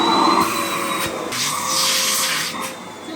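An Argos Value Upright VU01 vacuum cleaner runs up close, its motor a loud, steady rushing whine that swells and dips a little as it moves, with no talking.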